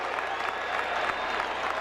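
A baseball stadium crowd cheers during Game 4 of the 2003 American League Division Series, Oakland Athletics at Boston Red Sox: a steady, distant roar of voices and clapping, fairly faint and even, with no single voice standing out.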